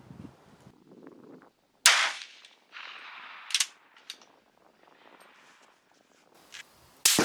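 A rifle fires GP-11 ammunition at an outdoor shooting range, sending out a few sharp, loud reports spaced several seconds apart, with quieter handling noises and rustling in between.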